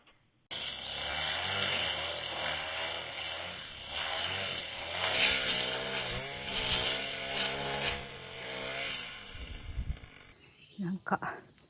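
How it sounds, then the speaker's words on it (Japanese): A grass cutter mows near an old farmhouse in the mountains, a steady, moderately loud motor drone with a wavering pitch that holds for about ten seconds before cutting off, followed by a few close handling knocks. "なんか草刈りもしてくれてるみたいです。"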